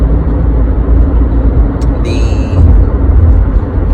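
Big truck passing close by a moving car, a heavy broadband rumble of road and engine noise filling the whole clip, loud and steady with a brief higher whine partway through.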